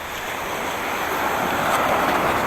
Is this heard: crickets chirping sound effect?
no